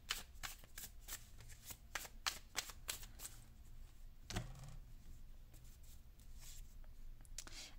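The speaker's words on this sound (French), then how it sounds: "On va prendre l'oracle numérologie pour prendre une carte conseil global des 2 prochaines semaines." Cards from a numerology oracle deck are handled and shuffled close up, a rapid series of soft flicks and riffles followed by quieter rustling as the cards settle, with no talking.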